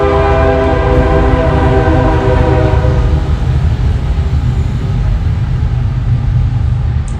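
Train rumbling past at close range, a loud continuous roar of wheels and cars with a sustained horn blast layered over it throughout.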